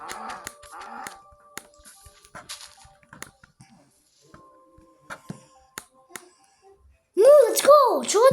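Sparse clicks and taps, then a loud, close cow moo in Minecraft with a wavering low call near the end.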